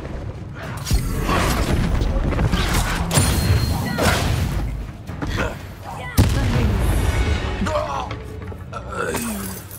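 A Confringo spell in Hogwarts Legacy: a loud, close, booming explosion in a hectic fight, with repeated blasts and impacts over a continuous battle din and bursts of voices.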